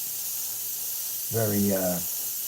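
An airbrush sprays Createx acrylic paint onto a taped canvas at 10%, a steady close airy hiss running throughout while someone briefly talks over it.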